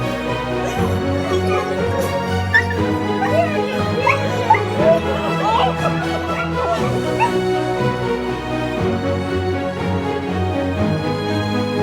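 Dog whimpering and yipping excitedly at a reunion with its owner, repeated high whines and short yelps over a steady background, with some faint talk.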